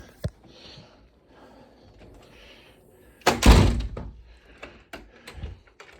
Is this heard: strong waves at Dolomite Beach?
no